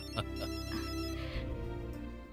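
A mobile phone ringtone plays indoors as a short melodic electronic ring, fairly loud and steady for a couple of seconds with a lower musical backing underneath.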